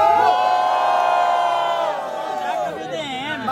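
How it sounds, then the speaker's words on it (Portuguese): Crowd cheering and shouting at a Brazilian rap battle, a dense, loud roar of voices that holds steady, then dips slightly as individual whoops rise out of it. "Barulho pra Nisk, família"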